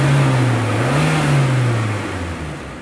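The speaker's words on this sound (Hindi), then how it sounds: "गाड़ी इस टाइम सीएनजी पे ही है।" Maruti Gypsy engine running on CNG revs in a steady, close-up drone that rises and dips slightly, loud and alone without any talk.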